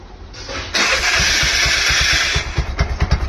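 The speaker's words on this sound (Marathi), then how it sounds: "गाडी सीएनजी वरती चालू झाली आहे" A CNG-running car engine is cranked with the self-starter and catches, the starter whir giving way to a loud, steady idle close by, with no talk.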